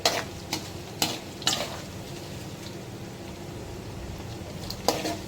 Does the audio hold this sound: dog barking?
no